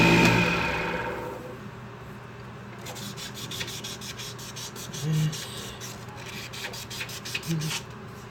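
Sanding an aspen wood bowl spinning on a lathe, a steady close abrasive rubbing hiss with faint rhythmic pulsing and a couple of brief louder scuffs.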